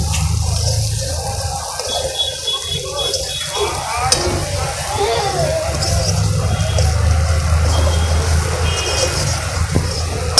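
Salted bitter wild brinjal curry sizzles in a pan while being stirred, a continuous close frying hiss with scraping stirs throughout.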